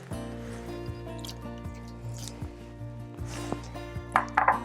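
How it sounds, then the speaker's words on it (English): Fresh blueberries drop into a pot of mulled wine, giving soft irregular plops and splashes over a steady low hum, with a few louder splashes near the end. "So I'm gonna add some blueberries. I'm gonna try not to splash them everywhere."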